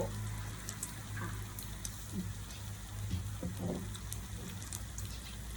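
Rain falling on a rainy day during a Thai pork-grill meal, a steady hiss of drops with scattered sharper taps and drips on nearby surfaces, continuous and fairly soft.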